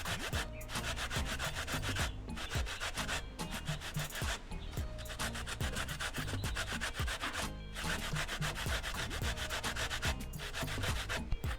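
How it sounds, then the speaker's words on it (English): Coconut flesh scraped against a handheld metal grater, a dense, continuous rasping scrape with quick repeated strokes close up, steady and loud throughout with brief gaps between passes. "Just hold the coconut and just set your hand like this and just grate it."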